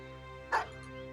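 A dog barks once in the video game Battle Brothers, a single short yip over a steady humming music bed.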